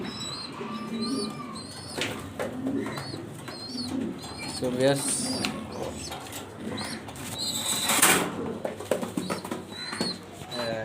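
Pigeons kept in a loft coo repeatedly at close range, with chirps and occasional wing flaps, while a person talks over them.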